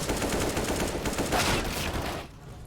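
Rapid gunfire in the video game CS:GO, with dense, close bursts of shots rattling for about two seconds before cutting off abruptly.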